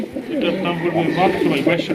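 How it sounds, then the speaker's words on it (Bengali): A female pigeon at a pigeon market coos in soft, throaty, repeated phrases, close by, mixed with people talking nearby. "আর এটা হচ্ছে মাদি কবুতর"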